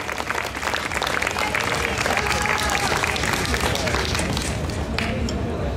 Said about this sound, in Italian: Un applauso che vale non solo per te, ma per questo spirito di affrontare le corse.